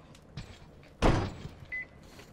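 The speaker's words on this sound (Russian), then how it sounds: "Дверь поддается!" A door forced open in the video game Metro Exodus, heard as a single loud, heavy crash of metal around the midpoint, with fainter knocks before it and a brief scrape trailing after.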